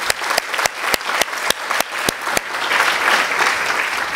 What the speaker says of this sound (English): a round of applause to our panel, amazing panel.